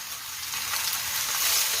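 Chili powder and onions stir-frying in a pan give a steady, close sizzle, a bright continuous hiss that builds slightly louder over a couple of seconds, with no talking.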